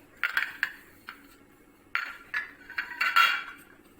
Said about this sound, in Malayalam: ഇഡ്ഡലി തട്ടയിലെല്ലാം കുറച്ച് എണ്ണ തൂവിയിട്ട് മാവ് ഒഴിച്ചു കൊടുക്കാം.